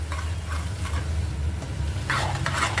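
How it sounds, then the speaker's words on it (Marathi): Raw prawns tip into a pan of oil-fried masala for prawn curry and get stirred through, a steady close sizzle under scraping spoon strokes, with brighter bursts of frying near the end. "आता आपण त्यात ते प्रॉन्स टाकून देणार आहे"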